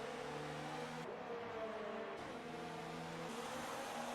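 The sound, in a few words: F1 cars racing and overtaking in video game F1 2019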